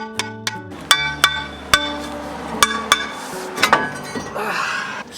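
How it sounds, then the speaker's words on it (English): Hammer strikes on a corroded brake rotor being freed from a Jeep Wrangler JL during a brake job, a series of sharp ringing metallic clanks at an uneven pace, close and loud, with a few quicker taps toward the end. "some heavy hitting with a hammer will come into play"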